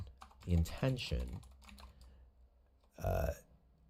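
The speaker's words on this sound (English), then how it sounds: "I'm looking over and typing." Fingers tap on a computer keyboard in short bursts of clicks, faint and close, mixed with someone talking.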